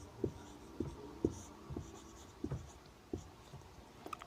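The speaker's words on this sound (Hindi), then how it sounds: "यहाँ सॉल्यूशन हम लिख देते हैं।" A pen scratches out a maths solution on paper, producing soft, close, irregular strokes and taps at a steady working pace, faint against a quiet room.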